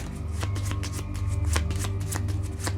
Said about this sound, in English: I'm just going to have to shuffle these now because I looked at the order.